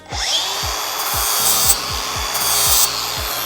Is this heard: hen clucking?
no